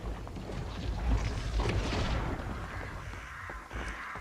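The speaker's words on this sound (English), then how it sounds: "Crows." Crows caw amid dense rumbling ambience in the dungeon game Dark and Darker, harsh calls rising out of a loud, noisy, windy background.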